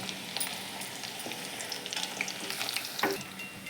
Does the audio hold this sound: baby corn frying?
yes